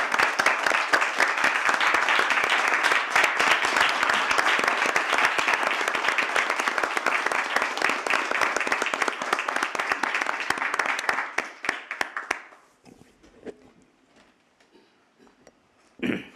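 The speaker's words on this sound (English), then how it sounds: "I think a round of applause at this time" An audience applauds steadily at a hearing board session, dense sustained clapping that stays loud for about twelve seconds, then thins out to a few scattered claps and near quiet.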